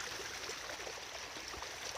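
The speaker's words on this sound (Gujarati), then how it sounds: "અને આ પાણી હાલે છે" Irrigation water runs along an open field channel in the early morning, a soft, continuous broadband rush and trickle that stays faint and even from start to finish, with no voices.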